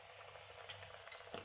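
Battered spinach-leaf pakoras dropped into hot oil give a faint, steady sizzle with a few soft crackles over about a second and a half.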